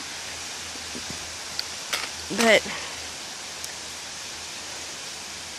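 The waterfall at Goat Creek makes a constant broadband rush, even and unbroken from start to end, with a short spoken word and a few faint rustles near the middle.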